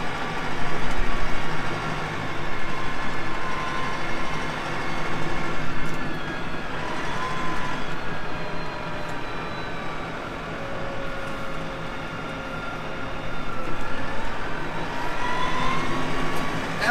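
A tractor fitted with a Trima front loader drives along with a steady engine drone and rattling, creaking mechanical noise, close and continuous throughout with no speech.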